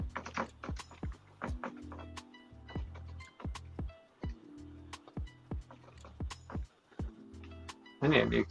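Keys on a computer keyboard are struck in sharp, close clicks at a fairly regular pace, with a person talking quietly beneath them.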